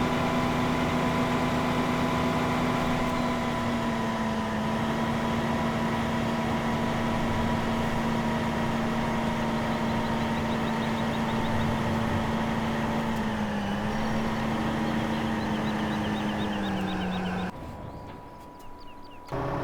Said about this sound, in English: We'll just put the forage harvester back into the shed where it came from.